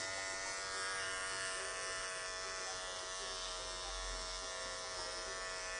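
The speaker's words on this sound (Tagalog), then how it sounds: "ang hirap pala vlog habang nag-aahit" An electric shaver buzzing steadily through a close, quiet shave, with a constant hum and no pauses.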